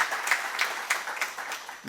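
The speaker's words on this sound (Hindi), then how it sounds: "एक बार जोरदार तालियां हो जाए सबके लिए" An audience at a Rotary Club event in Jalgaon applauds, a brief burst of scattered clapping from a moderate distance.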